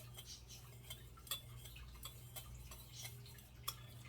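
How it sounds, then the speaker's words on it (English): A spoon stirs color flakes into melted soy candle wax, making quiet, steady clinks and light ticking scrapes against the container, close and faint with no voices. "Stir until each flake is well dissolved into the wax."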